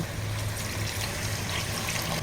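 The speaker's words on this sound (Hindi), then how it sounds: "अब इसमें हम डालेंगे पानी।" Water poured into a pan of simmering chicken korma gravy, a steady close trickle and splash running without pause.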